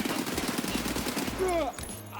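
A budget gun loaded with PST ammo fires a rapid automatic burst in Escape from Tarkov, loud close shots in quick succession followed by a short tail.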